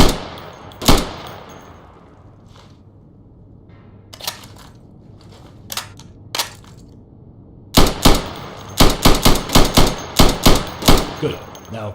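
Gunshots in the Insurgency video game hitting targets through plywood: a single shot, scattered isolated reports, then a rapid volley of loud, sharp shots near the end, with faint talk underneath.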